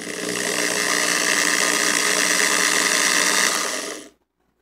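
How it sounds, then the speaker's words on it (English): A power drill runs steadily at full speed for about four seconds, a dense whirring buzz with a constant pitch, then cuts off abruptly into silence. "you can go ahead and run the drill for about 5 seconds"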